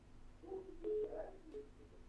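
Faint telephone line tones after a caller hangs up on a live broadcast call, a few short beeps over a low background hum.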